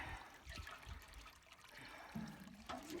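Water poured from a tank onto dry, hard clay soil, trickling and splashing close by, with soft gurgles as it soaks in and a few brief bubbly sounds near the end.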